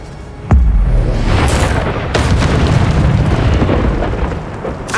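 An Incendio fire spell explodes in the Hogwarts Legacy video game: a sudden loud boom followed by a sustained roaring burst of flame, with a sharp whoosh partway through and another at the end.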